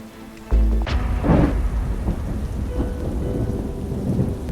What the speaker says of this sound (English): The rain became much heavier now, and the streets too began to flood.